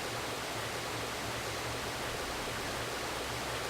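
Water flows steadily in the Dark Cloud video game, released by enemies: a continuous, even rushing wash with no breaks, fairly soft and alone throughout.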